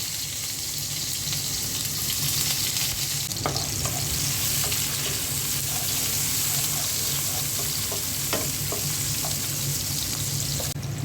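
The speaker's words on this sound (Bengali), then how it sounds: "তেলটা গরম হয়ে গেছে, এখন আমি পেঁয়াজ দিয়ে দিচ্ছি।" Onions go into hot oil for khichuri and fry with a constant loud sizzle, punctuated by sharp pops and stirring clicks, close and steady throughout.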